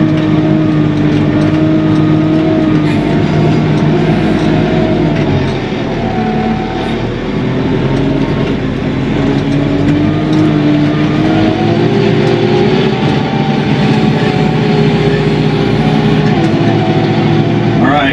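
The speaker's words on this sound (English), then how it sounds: "And now I'm going to bush hog this all in reverse." A tractor engine drones steadily at close range while bush hogging a field in reverse, its pitch wavering slightly as it works, with the mower's continuous churning roar underneath.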